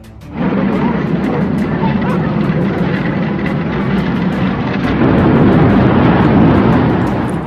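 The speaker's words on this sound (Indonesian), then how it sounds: "suara gemuruh dari mesin pesawat yang terdengar sampai ke daratan Belanda" Engines of Allied World War II military transport aircraft over the Netherlands roar in a loud, steady, unbroken drone that swells slightly toward the end.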